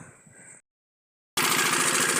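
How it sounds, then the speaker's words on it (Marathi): A water pump engine starts up after a short silence and runs loud and steady, preceded by a quieter mechanical rattle with a faint high whine. "आता बघूया इंजिन सुरू होते का नाही"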